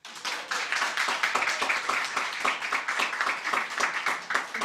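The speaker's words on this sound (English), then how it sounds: "I would like you to give Jason an additional round of applause" Applause during a graduation ceremony, steady clapping from several people that lasts about four and a half seconds at moderate loudness with no talk over it.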